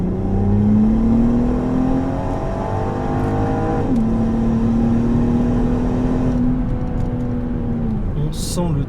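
Volvo V60 Polestar wagon accelerating hard through the gears, its engine note climbing loud and steady with turbo whoosh and whistle, a brief shift dip midway, heard from inside the car.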